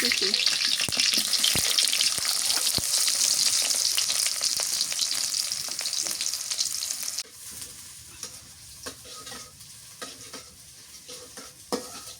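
Bay leaf, garam masala and onion sizzle and fry in hot oil with steady crackling and occasional stirring clicks. The sizzle drops noticeably quieter partway through, and no one speaks.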